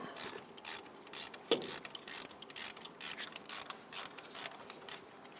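A hand ratchet loosens a bolt on a 2000-2006 Toyota Tundra front brake caliper bracket, giving a long series of quick, close clicking strokes in a steady rhythm with no talk.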